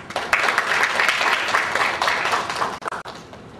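Audience applause in a lecture hall at a sustainability conference, welcoming an invited lecturer: dense, steady clapping from many hands sustained for several seconds, tapering with a couple of brief gaps near the end.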